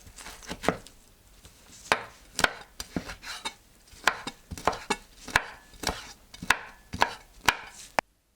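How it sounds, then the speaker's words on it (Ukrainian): A knife chops orange peel rapidly on a cutting board, sharp close taps in an uneven but steady rhythm, with no voices. "Поріжте шкірку на невеликі шматочки."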